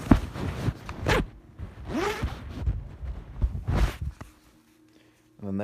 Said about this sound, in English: you have a zipper on this side and that side, and they give you quite a bit of room. So you just take this, unzip it.